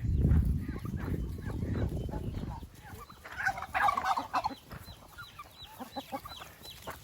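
Chickens, including red ones, cluck and chatter in a lively Thai mixed-farm yard, with a low rumbling noise at first, then scattered bird calls and clucks continuing close by.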